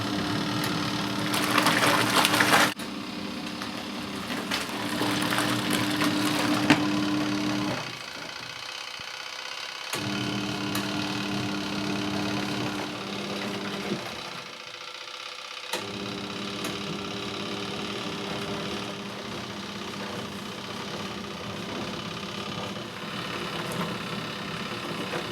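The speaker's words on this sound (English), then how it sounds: "So that's one last look at the tea towels washing in the machine." A Good Ideas compact twin tub washing machine washes tea towels with a continuous motor hum and sloshing churn, steady and close, briefly dipping quieter twice as the agitator pauses.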